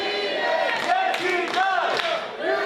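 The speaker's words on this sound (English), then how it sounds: "The crowd's saying you don't need him" A wrestling crowd at a Pound 4 Pound Proving Ground match chants loudly in unison, rising and falling voices filling the arena in a repeated rhythmic call.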